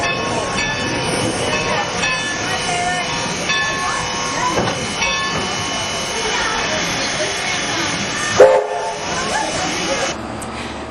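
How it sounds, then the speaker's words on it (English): A train runs on its rails during a ride back into Jamestown station at Railtown State Historic Park: a steady, loud rumble and hiss of rolling cars, with a sharp clank near the end. "Your train ride ends back at the Jamestown station where it started."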